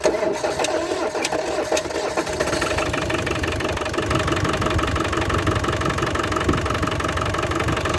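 A Land Rover Discovery 300Tdi diesel engine, a donor engine just installed after ten months out of use, turns over with a few clattering bursts, then settles into a loud, rough, knocking idle close by.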